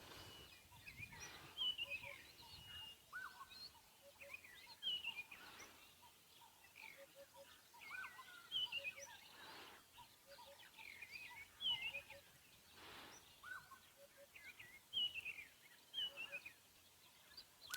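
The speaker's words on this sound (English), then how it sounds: "Isn't that beautiful? All those birds starting to wake up." Wild birds call at sunrise on an African safari drive: repeated whistles, chirps and rattling calls from several species, some near and some distant, over a quiet background with occasional faint voices.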